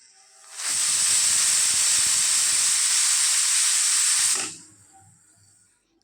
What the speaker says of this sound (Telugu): కుక్కర్ మూత మూసి ఒక్క మూడు విజిల్స్ రానిద్దాం